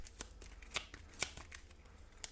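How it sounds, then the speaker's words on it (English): Game cards from a solo board game of South China Sea conflict being shuffled back into a deck, a brief close run of soft riffling snaps and flicks, fairly quiet with no one talking. "Then we will take these cards and shuffle them back in"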